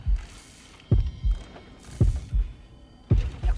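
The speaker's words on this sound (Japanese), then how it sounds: "結構心音が近めですね。" Heartbeat warning signalling an approaching killer in the mobile horror game Horrorfield, loud deep double thumps repeating about once a second over a low hum.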